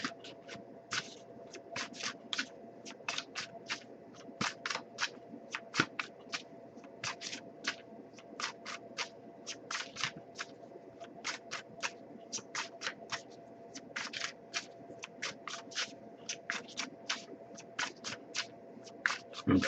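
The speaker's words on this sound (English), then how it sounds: "but I'll give it a few more shuffles" Repeated crisp riffling bursts of tarot cards being shuffled by hand, steady and close, continuing for the whole stretch over a low background hum.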